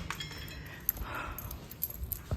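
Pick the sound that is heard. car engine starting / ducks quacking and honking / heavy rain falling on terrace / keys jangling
keys jangling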